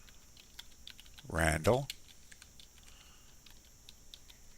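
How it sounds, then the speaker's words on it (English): Computer keyboard typing a name into an entry box, a scattered series of light, close key clicks in short bursts, with one spoken word in between. "start to type in his name, last name first"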